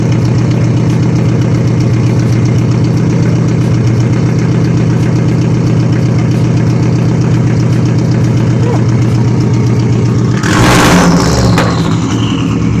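A 2005 Subaru Impreza WRX's loud, deep new exhaust rumbles at idle close by, then near the end a sharp rev surges briefly before settling back to the throaty idle.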